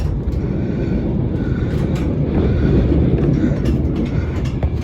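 An InterCity 225 train approaching Peterborough station gives a steady, loud rumble with a continuous rolling roar heard from on board and no pauses.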